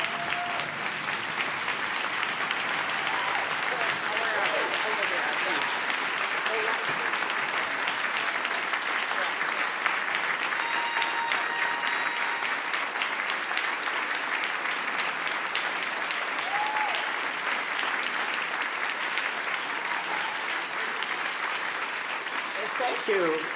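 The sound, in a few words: audience applause at a memorial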